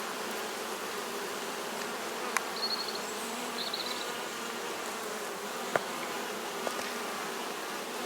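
Honey bees buzz around a beehive during the honey harvest, a steady soft hum with occasional individual bees passing close and a few faint clicks, no talking.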